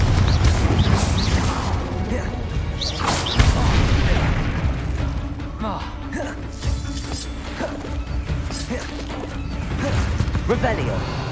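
Confringo fire-blast spells in the Hogwarts Legacy video game, dense bursts and booms layered with game music and mechanical effects, with one heavy impact a few seconds in and more crashes scattered throughout.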